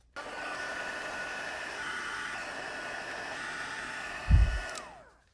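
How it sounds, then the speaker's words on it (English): A craft heat tool for heat embossing blows a steady, loud whooshing roar for several seconds, then a brief low thump and the airflow winds down and cuts off. "Now I can turn on my heat tool and get everything heated up all at the same time."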